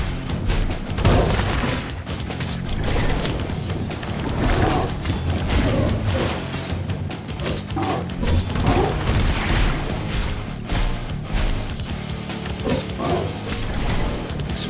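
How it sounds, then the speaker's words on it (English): Explosions and rockets in the video game Have A Nice Death, a loud, continuous barrage of booms, crashes and thuds layered over dense game noise with no pause throughout. "Explosion and the rockets cost a lot of mana."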